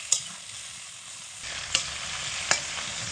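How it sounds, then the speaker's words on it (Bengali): Green beans and potatoes fry in a pan with a steady close sizzle, and a utensil scrapes through them three times as they are stirred. "এবার খুব ভালো করে নাড়াচাড়া করে মিডিয়াম আঁচে রেখে শিম আর আলুগুলোকে ভেজে নেব।"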